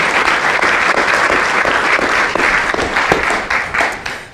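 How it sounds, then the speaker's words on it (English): Loud, sustained applause from a panel-discussion audience, dense clapping filling the whole stretch and tapering slightly near the end. "let's give our panelists a round of applause."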